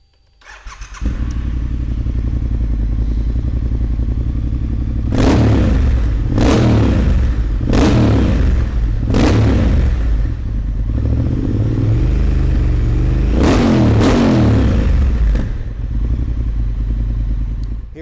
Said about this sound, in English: let's fire this one up and have a listen